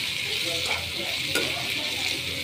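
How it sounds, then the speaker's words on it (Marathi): Eggplant and chili vegetable with turmeric, pav bhaji masala and salt is stirred in a frying pan, a steady hiss of sizzling under a few scraping strokes of the spoon, close and continuous without speech. "आता हे व्यवस्थित ढवळून घ्यायचं"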